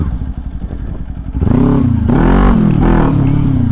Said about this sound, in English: start pulling a few wheelies